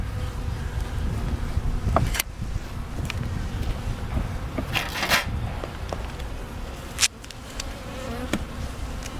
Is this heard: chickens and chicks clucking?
no